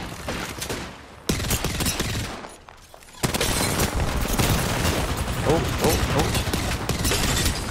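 Nemesis rifle fire in Apex Legends, a dense, near-continuous stream of rapid shots and impact clatter, loud and close, with a brief lull before the shooting resumes and runs steadily to the end.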